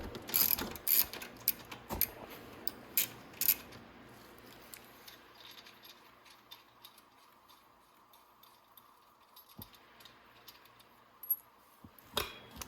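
A ratchet clicks in bursts while 10 mm bolts come out from underneath the gas tank of a Venom 110cc Mini Madix ATV. The pawl ticking is close and crisp, with quieter stretches between bursts.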